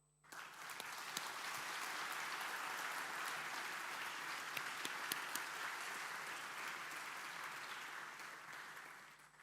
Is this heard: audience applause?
yes